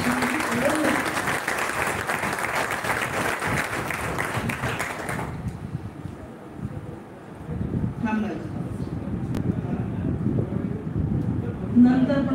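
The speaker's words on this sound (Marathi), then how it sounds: "तुम्हाला वाटतं की आपण सगळ्या त्या विद्यार्थ्यांसाठी टाळ्या वाजवायला पाहिजे त्यांना." An audience at an engineering college alumni meet claps loudly and steadily for students for about five seconds, then the applause dies away into a quieter hall with faint voices and room noise.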